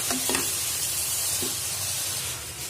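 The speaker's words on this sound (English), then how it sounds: "You can see my pan is loaded with spinach. But do not worry, once it starts cooking, it will shrink." Spinach frying in a loaded pan for spinach dal gives a steady close hiss and sizzle, with a few brief stirring scrapes near the start.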